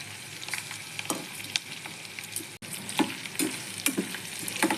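Chopped onion sizzles and fries in a hot pan for upma, joined by stirring scrapes and clinks of a spoon against the metal, steady and close with no voices.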